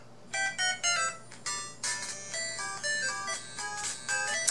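A bright, synthesized chiptune-style video game ringtone melody plays on its own from a Galaxy phone, a quick series of beeping notes repeating in a bouncy pattern.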